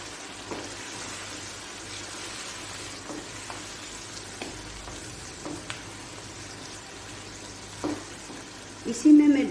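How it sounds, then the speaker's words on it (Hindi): Tomato and onion paste frying in a pot with garlic and ginger for chicken malai handi, a steady low sizzle throughout with faint stirring clinks and a louder burst near the end. "और अब मैंने इसमें डालना है वो पेस्ट बनाया है टमाटर और प्याज का, वो डालूंगी।"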